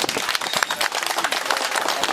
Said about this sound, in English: You clap for this man.